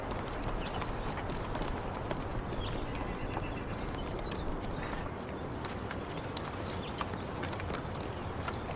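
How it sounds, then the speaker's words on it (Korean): A herd of wild khulan donkeys trots across dry grassland, their hooves making a steady, fairly faint clip-clop under constant broadband outdoor noise. "야생 당나귀 훌란이다."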